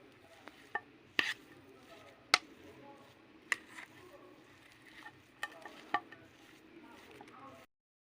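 Fuchka filling being mixed by hand with fresh coriander leaves in a bowl: quiet, soft rustling with scattered sharp clicks and taps against the dish at irregular intervals.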